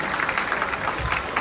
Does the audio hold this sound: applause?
yes